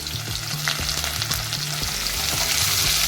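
Finely chopped onion for a traditional taro-leaf phatphata fries in a pan with a dense, close, continuous sizzle, and light utensil scrapes and taps come through now and then.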